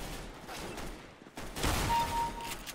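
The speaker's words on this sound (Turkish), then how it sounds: "Pompalı." Pump shotgun fire from Counter-Strike: Global Offensive, a few sharp blasts amid busy game noise, with a louder burst in the latter half and a mid-level, somewhat muffled mix.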